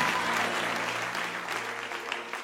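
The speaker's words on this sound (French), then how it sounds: "Applaudissez pour le Seigneur." A church congregation applauds for the Lord during a sermon, a loud, dense clapping that holds steady and then eases slightly toward the end, with a low hum beneath.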